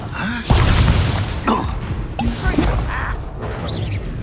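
Spell impacts from the Hogwarts Legacy video game, including a Confringo blasting spell, land as loud booms with shattering crashes: a heavy hit near the half-second mark and several sharper bursts after it, over a constant background of game effects.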